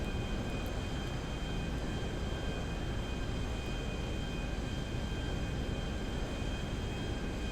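A steady, droning aircraft engine in flight in GTA 5, a constant broadband roar with a faint whine that neither rises nor fades over several seconds, heard alone without talk.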